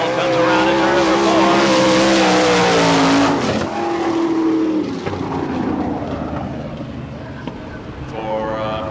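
Sprint cars race flat out around a dirt oval turn at Barberville, Florida, engines screaming loud and close before fading as they pass, with a commentator talking over the roar.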